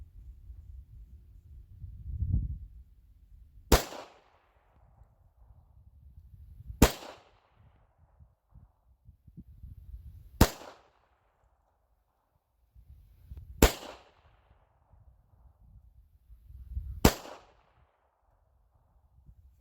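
Five single shots from a Wilson Combat pistol, evenly spaced about three seconds apart, each a sharp, loud crack with a short tail, with quiet handling and rustling between them.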